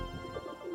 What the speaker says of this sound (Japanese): 鳩めっちゃ集まってきて餌ないよ、餌ない、ごめんね